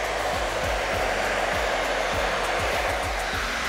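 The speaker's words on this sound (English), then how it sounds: "now all I have to do is diffuse them with the CHI lava dryer" A CHI Lava hair dryer with a diffuser attachment blows in a loud, steady whoosh while it dries curly hair. There is no talk over it.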